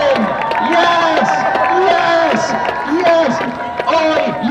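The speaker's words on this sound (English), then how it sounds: "Keep cheering!" A crowd at a youth climate strike protest rally in Sheffield cheers and shouts repeatedly in rhythmic bursts, loud and close, with voices chanting over the continuous cheering.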